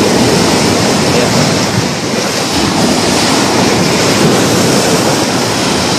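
Strong sea waves pound the shore in Negros Oriental, a loud continuous roar of surf with gusty wind buffeting the microphone throughout, no voices heard.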